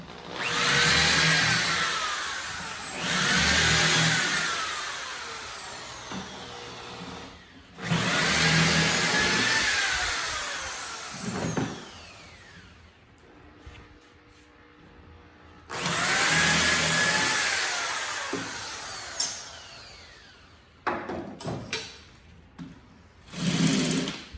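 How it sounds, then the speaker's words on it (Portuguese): An electric drill bores holes through the sides of an MDF tool box in a workshop, in three loud whining bursts of several seconds each with short quieter pauses between, followed by a few brief clattering knocks. "Tirar os grampos e concluir aqui a furação das laterais."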